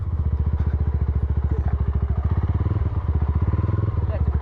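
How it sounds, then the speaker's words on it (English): Motorcycle engine putting along at a steady, rapid thumping rhythm, close and fairly loud throughout the ride, with no talk over it. "Let's take this motorcycle out there."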